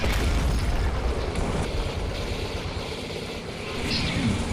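A tank cannon from a PT-34 mine-clearance medium tank in Men of War fires with a heavy, rumbling boom that rolls on and decays over several seconds, loud and alone.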